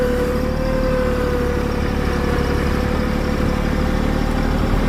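A Bad Boy tractor, working with forks on the front during a lumber delivery, idles with a steady, loud, even engine rumble that holds constant throughout.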